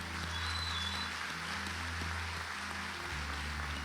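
A church congregation applauds during a Portuguese sermon, a steady, dense patter of many hands clapping heard from a distance at low level.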